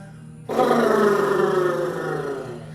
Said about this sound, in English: Exhale, flutter the lips, make some noise.